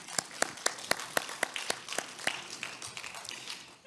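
An audience at a credit union annual meeting applauds the board members, starting with sharp, evenly spaced claps that thicken into looser, overlapping clapping from a modest crowd in a room.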